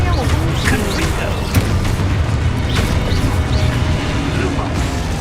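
The Confringo blasting spell in the Hogwarts Legacy video game: several sharp explosive bursts and crackling impacts spread over a few seconds, thumping over a rumbling game soundtrack, with voices talking in the background.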